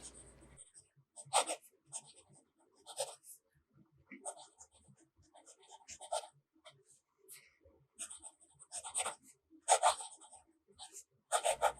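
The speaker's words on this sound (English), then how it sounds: "Easily writing on the back." Fountain pen nib writing Callifolio Orange ink on the back of a paper page, a soft, dry scratching in short intermittent strokes with pauses between, close and quiet.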